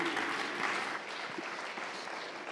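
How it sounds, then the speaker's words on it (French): Applause from a conference audience after a presentation on electrical grids, an even wash of clapping heard at moderate distance and fairly quiet. "Merci beaucoup, on vous applaudit."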